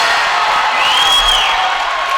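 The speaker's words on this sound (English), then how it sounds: "Taylor has the crowd on the feet." Basketball crowd at a men's college game cheering after an and-one play, a loud sustained roar of voices with a rising whistle-like tone, no clear speech.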